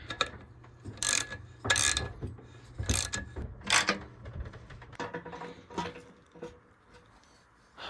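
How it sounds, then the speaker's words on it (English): A ratchet with a 14mm socket tightens a nut on a Honda S90 motorcycle frame during restoration, making loud, close bursts of rapid clicking that come in several short strokes with pauses between. "Get your ratchet with a 14mm on it."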